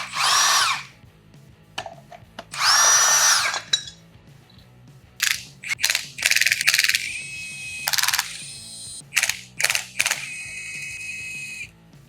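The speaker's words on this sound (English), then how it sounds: "I'm gonna take this AC bracket the rest of the way off" Power tool bursts, likely an impact driver or drill, working loose an AC bracket on a BMW E46 engine, with a series of short loud whirring runs and pauses, close up, with occasional metallic clinks between them.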